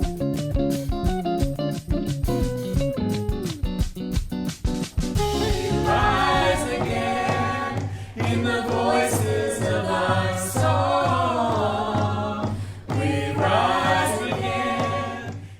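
Members of a family from Sydney, Nova Scotia, sing together, voices layered over steady, full accompaniment that carries on loudly throughout.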